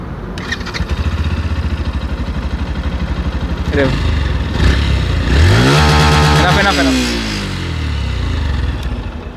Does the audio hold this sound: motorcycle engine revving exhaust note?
yes